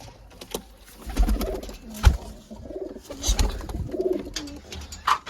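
Pigeons coo repeatedly in a home breeding loft, soft throaty rolling calls recurring close by over low background rustle.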